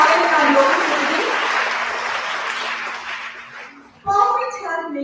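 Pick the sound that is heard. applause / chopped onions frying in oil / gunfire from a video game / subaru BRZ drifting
applause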